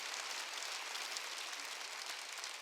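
A church congregation at a Wednesday worship service claps, a brief, faint, dense patter of applause heard from a distance.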